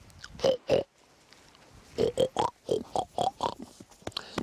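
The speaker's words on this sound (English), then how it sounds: "the distraction of these pigs wandering around all over the place" Pigs wandering around grunt and oink in short, close bursts, a couple early on, then a quick cluster of snorts and oinks after a brief pause, with no speech over them.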